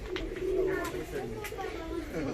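Fancy pigeons coo softly and continuously inside their loft in Adıyaman, and a voice speaks faintly beneath the steady murmur.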